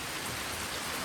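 Heavy rain begins falling outside a house, a dense, even hiss of drops heard alone and fairly faint for about a second.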